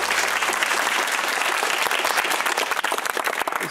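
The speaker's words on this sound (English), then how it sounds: "It's so good of you to applaud so generously" Audience applause in a television quiz studio at the end of a close University Challenge match between Bristol and Warwick; dense, sustained clapping from many people, loud and even throughout.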